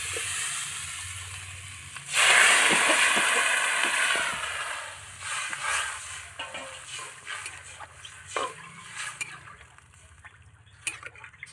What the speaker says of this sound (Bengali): এই মশলা কষা হয়ে গেছে এবার আমি জল দিয়ে দেবো